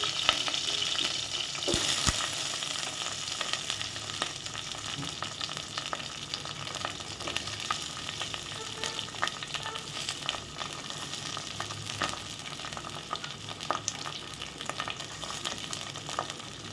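Curry leaves, chili and onion sauté in a hot pan with a steady crackling sizzle that holds for the whole stretch, punctuated by occasional sharper pops and stirring scrapes.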